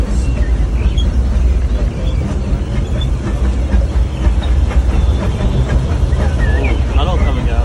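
The Disneyland steam train rumbles steadily along its rails, a continuous low rolling clatter with faint squeaks, while voices are heard over it.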